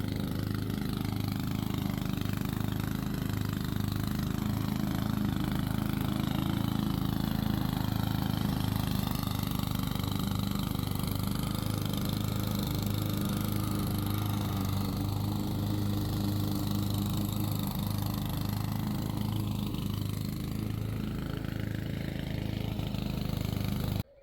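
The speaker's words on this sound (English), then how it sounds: "that's a tank, that mower. Can't beat a Honda" A Honda lawn mower engine runs steadily throughout, a continuous low droning hum with harmonic buzz at an even level and nearby, during a garden clearance of long overgrown grass.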